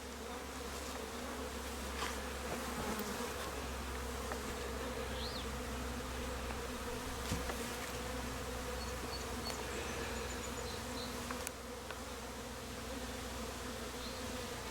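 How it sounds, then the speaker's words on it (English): Honey bees buzz in a dense, continuous drone around an open, very full beehive during a June inspection, steady and close with occasional individual bees flying past. "It is now possible to see that this hive is very full, has many bees, and is of excellent strength."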